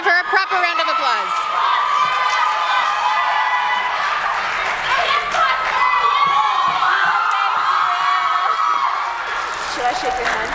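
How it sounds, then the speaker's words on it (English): An audience cheers and applauses at a school music event as someone is called up, with loud crowd shouting, whoops and excited voices over scattered clapping, sustained and close throughout. "We're going to give her a proper round of applause."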